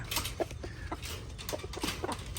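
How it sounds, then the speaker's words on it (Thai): Backyard chickens cluck restlessly in a coop during moderate rain, several short clucks scattered over a steady hiss of rainfall. "ไก่ก็กระวนกระวายครับ รอเวลาให้ผมมา"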